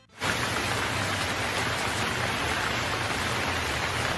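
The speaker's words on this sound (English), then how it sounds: "Can you hear all that rain?" Heavy rain hisses steadily and densely after a brief quiet start, a constant wash of close, loud downpour.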